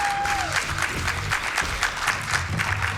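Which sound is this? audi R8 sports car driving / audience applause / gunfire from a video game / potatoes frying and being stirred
audience applause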